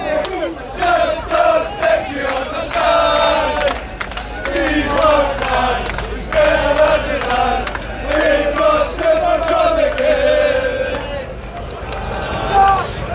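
Scottish football fans of the Tartan Army sing loudly together as a crowd, a chanting wall of many voices with rhythmic shouts and occasional claps close by.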